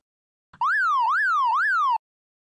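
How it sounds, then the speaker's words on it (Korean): An ambulance siren wails in three smooth rising-and-falling electronic sweeps, loud and close, with no voices, cutting off abruptly after about one and a half seconds. "동료들이 놀라 구급차를 불렀습니다."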